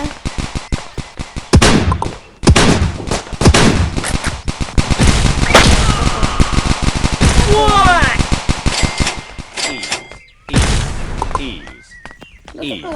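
Loud, rapid bursts of automatic gunfire in the Dude Theft Wars multiplayer video game, several sustained volleys broken by short gaps, with occasional voices talking over the shooting.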